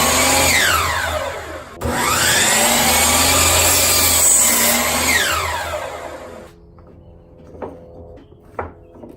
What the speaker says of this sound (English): I'm going to get a piece of wood, try to do 45 miter joints